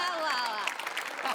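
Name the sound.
audience applause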